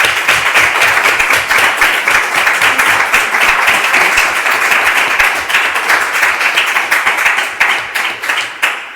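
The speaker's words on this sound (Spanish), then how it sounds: "Un aplauso." A university debate audience in Alicante applauds steadily for about nine seconds, a dense, even wash of clapping close by that thins slightly near the end.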